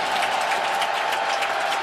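Steady broadband roar of a stadium crowd cheering at an NFL game, Pittsburgh Steelers at Baltimore Ravens, a dense, continuous wash of voices and applause with no single sound standing out, loud throughout.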